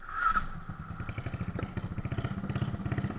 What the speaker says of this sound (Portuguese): Dá o ronco dessa moto, ó.